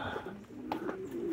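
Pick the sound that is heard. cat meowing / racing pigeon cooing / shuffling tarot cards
racing pigeon cooing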